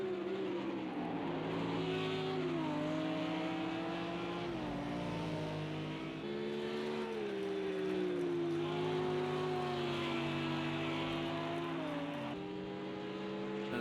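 Sim-racing engine noise from GT3 race cars at Laguna Seca in Project CARS 2: several engines drone steadily and loud throughout, pitch rising and dipping with gear changes, with a brief shift near the middle and another late on.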